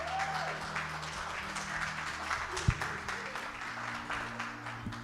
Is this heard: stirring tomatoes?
no